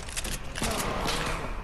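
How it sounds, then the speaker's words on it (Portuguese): Gunfire in the Fortnite video game, Season 8: a dense burst of shots rattling on without pause through the short stretch at steady loudness, with faint voices barely showing underneath. "era você que tava atirando aqui."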